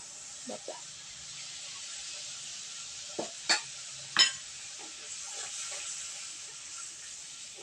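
Ginger and cumin going into hot oil with chili and onion paste, giving a faint steady hiss under a few brief spoon taps and scrapes against the pan, close by.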